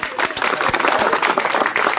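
A crowd of villagers, old and young, seated at a local gathering in India claps loudly and continuously in a dense, close burst of applause.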